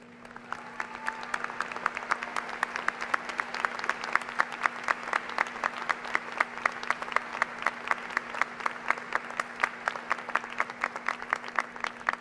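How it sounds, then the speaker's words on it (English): A commencement crowd at a community college graduation applauds standing faculty, steady rhythmic clapping from a large audience that swells and continues evenly for several seconds, heard in a hall with a faint constant hum beneath. "please stand for a round of applause"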